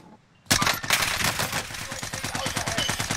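Rapid automatic gunfire in Call of Duty Warzone's Rebirth mode bursts in after a brief quiet start, a loud, dense string of closely spaced shots that keeps hammering to the end.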